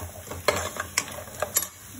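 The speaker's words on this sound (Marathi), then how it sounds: "परतून घ्यायचंय छान." Crab curry masala sautéed in a pan, a low sizzle with several sharp scraping and clinking strokes of a spoon against the metal as it is stirred.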